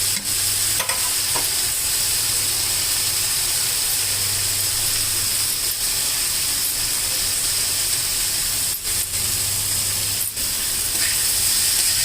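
Chopped vegetables frying in a pan for an oats and moong dal khichdi, a constant close sizzle with periodic stirring scrapes and knocks of a spoon.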